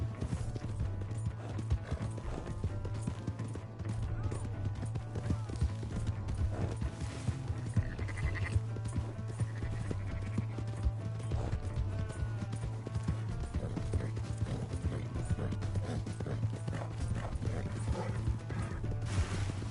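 A horse's hooves clip-clop steadily in Red Dead Redemption 2, riding under a continuous bed of game music and ambience that never lets up.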